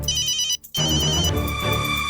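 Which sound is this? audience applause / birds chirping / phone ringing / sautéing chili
phone ringing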